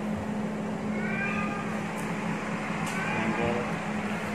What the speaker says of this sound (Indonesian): Kucing Bengal Sky daripada California